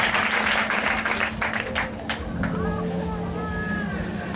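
A church congregation applauding to acclaim the Lord: loud, dense clapping and crowd noise for a couple of seconds that thins out, with voices and a tone continuing underneath.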